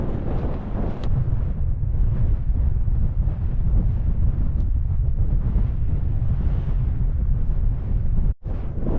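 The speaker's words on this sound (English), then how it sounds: "That wind's picking up." Strong wind buffets the microphone on an open Lake District fell, a loud, continuous rumbling gust with no let-up until a sudden brief drop near the end.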